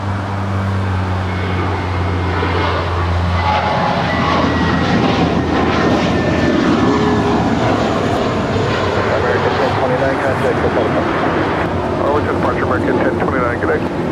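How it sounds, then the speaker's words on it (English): An American Airlines Airbus A321 departs LAX for Chicago with a loud, steady jet roar that fills the whole stretch, while a voice talks over it. "That is American 1029 departing to Chicago on an A321"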